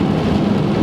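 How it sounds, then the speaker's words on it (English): Steady rain falls outdoors in a snowy setting, a dense, even patter that stays constant and fairly loud throughout the short stretch, with no voices. "And the rain has begun, so the big melting is going to be in progress."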